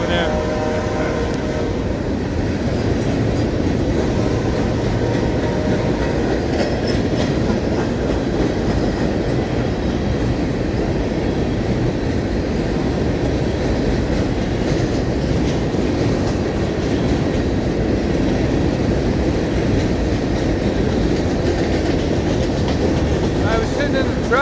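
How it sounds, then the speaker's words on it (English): A freight train rumbles past close by, a loud continuous roar with rhythmic wheel clatter holding steady throughout. "Didn't expect this freight train."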